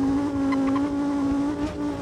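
Car engine straining while climbing a long flight of stairs, a loud sustained tonal revving drone held steady, with faint bumps and scrapes underneath.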